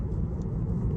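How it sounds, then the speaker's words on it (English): A truck accelerating on a road in Belgium, heard from inside a following car: a steady, low engine and road rumble holds at an even level for about a second, with no voices. "And the truck is accelerating to 70."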